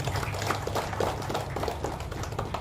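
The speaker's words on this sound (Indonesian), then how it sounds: "Tepuk tangan untuk Bapak Ibu." Audience clapping at a party inauguration and office opening ceremony in Papua Tengah, a steady crowd patter of many hands filling the space at moderate loudness with no voices over it.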